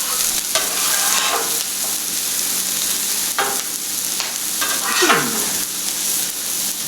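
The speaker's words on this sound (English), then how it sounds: "Take these onions off." Onions scraped off a Blackstone griddle while ham and green pepper fry, a steady loud sizzle with repeated metal spatula scrapes sweeping across the hot surface, no talking.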